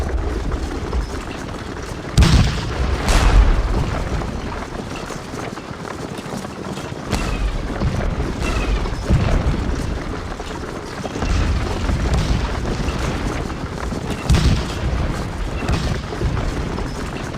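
Artillery in the Gettysburg battle game fires canister in heavy booms, several bursts landing at irregular intervals over a constant rumble of battle noise and running troops.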